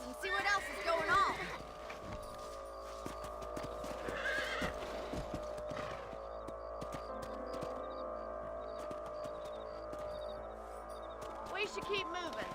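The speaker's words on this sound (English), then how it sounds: "Let's get back on the horses and see what else is going on." Horses trot with steady clip-clop hoofbeats in Red Dead Redemption, and a horse whinnies near the start, set against a game soundscape with a voice briefly present.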